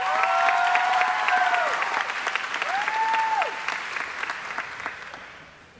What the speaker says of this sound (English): Let's give these salutatorians one more round of applause.